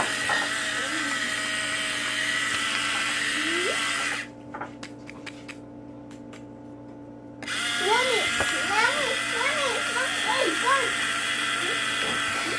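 An electric grinder whirs loudly as it grinds anise for cookies, a steady high buzz that cuts out for a few seconds of quiet tapping and resumes, with people talking over it.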